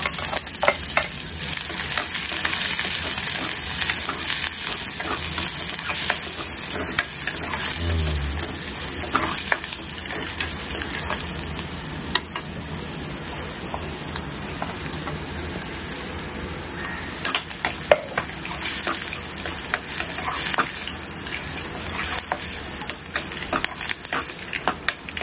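Vegetable poriyal tempered with mustard seeds and dal fries in a home kitchen, a steady loud sizzle with stirring scrapes and occasional utensil clinks, continuing without talk for about 25 seconds.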